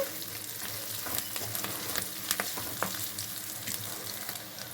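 Dried prawns frying in hot oil in a pan for a prawn and ridge gourd curry, a continuous close sizzle with occasional crackles and stirring scrapes.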